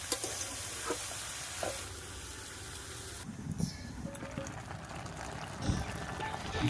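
Water lily stems fry with crab in a pan, a soft, steady sizzle broken by scraping stirs and occasional knocks, with a quieter stretch midway.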